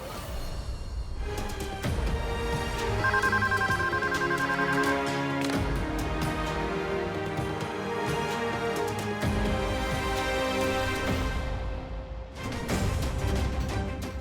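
A telephone rings in a Telugu TV drama scene, a brief repeating ringtone pattern in the middle of the passage, set against steady background music.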